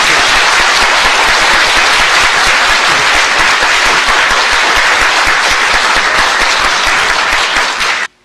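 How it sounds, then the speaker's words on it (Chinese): An audience at a Chinese-language lecture in Australia gives sustained, loud applause welcoming the speaker, a dense, even roar of clapping that stops abruptly at the end. "让我们用掌声欢迎辛浩年先生为我们演讲"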